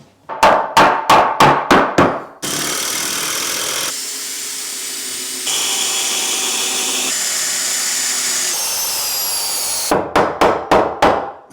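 Rapid series of sharp hammer blows during an alcove bed build, then a long stretch of steady machine whirring, and another quick volley of hammering at the end.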